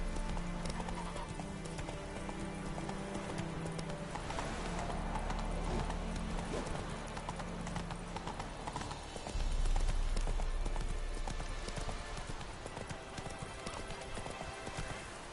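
Roach the horse from The Witcher 3 gallops with rapid, rhythmic hoofbeats that run steadily throughout, and partway through a loud neigh rises over them.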